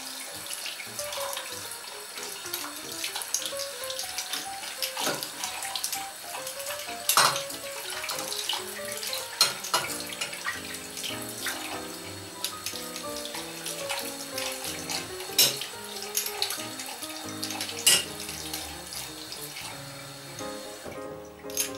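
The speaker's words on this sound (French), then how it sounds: "nous allons rincer le mort, mais vraiment rincer abondamment" Tap water runs steadily into a sink while a horse bit is rinsed, with clinks and rattles now and then, close by, with no talking.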